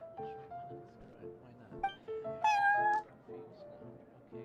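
Prince the cat meows repeatedly in Genshin Impact's Cat's Tail, a run of close, clear game cat cries with a louder, drawn-out meow in the middle, set over soft background music.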